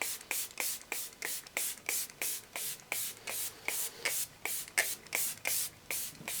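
Setting spray misted onto a face in quick pumps: about fifteen short, sharp hissing bursts in a steady rhythm, close and fairly quiet, with no talking.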